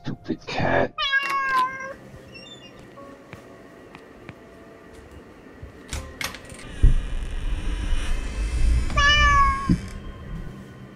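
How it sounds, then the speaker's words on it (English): A cat meows several times, a close, clear drawn-out call near the start and again later, with quieter stretches of room noise and some handling thumps between the cries. "Stupid cat."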